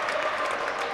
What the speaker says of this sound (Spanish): El aplauso grande para todos los chicos que dejaron todo en la cancha en el día de hoy